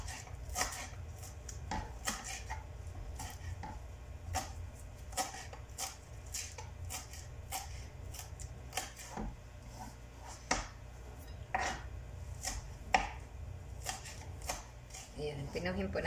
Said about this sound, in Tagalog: Ayan, pinuhin po natin ng konti.